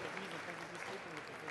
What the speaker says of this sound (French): On applaudit nos 2 premiers candidats, s'il vous plaît.